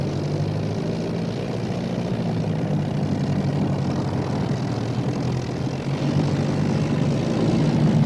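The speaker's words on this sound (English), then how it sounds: "He pushed the throttle open, and in a moment was taxiing at dangerous speed towards the area where he judged Ginger would fall." A propeller aircraft taxiing at dangerous speed in a WW2-era audio drama: a steady, loud droning engine roar with a throbbing propeller hum that holds constant and swells slightly toward the end, with no voices.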